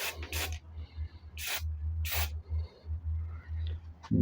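Short hissing bursts of an aerosol spray paint can coating parts of a bow, four or five quick sprays close by with pauses between, over a low steady hum.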